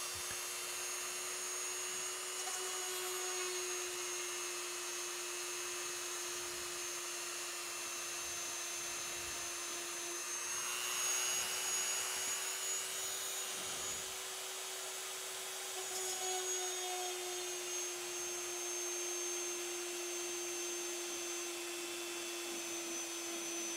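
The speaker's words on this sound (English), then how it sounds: "There's no reason to drill more than a quarter of an inch hole" Power drill boring quarter-inch holes into a Corvette HVAC controller, a steady high whine running throughout with slight rises and dips in pitch, close and fairly loud, no talking.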